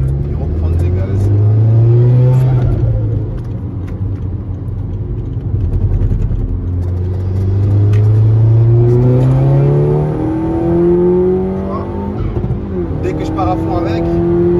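An Audi S3 engine with a low-pressure fuel pump problem, revved under throttle in several rising and falling pulls, its tone sweeping up and down close by.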